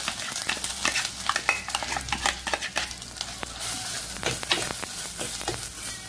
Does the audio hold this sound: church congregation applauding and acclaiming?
no